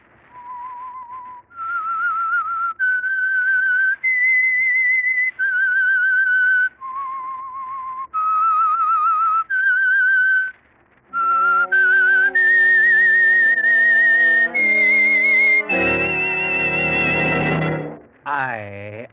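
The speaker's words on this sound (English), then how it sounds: "That whistle is your signal for the Signal Oil Program" A melodic whistled theme for The Whistler radio drama, a lone whistler carrying a rising and falling tune in sustained phrases, joined near the end by a full orchestral swell that takes over the melody.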